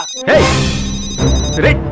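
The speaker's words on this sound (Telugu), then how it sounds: "ఫోన్ వస్తుందిరా" A telephone rings loudly in two close bursts indoors, with bright metallic tones and excited voices underneath.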